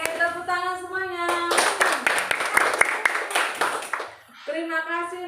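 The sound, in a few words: applause, class clapping hands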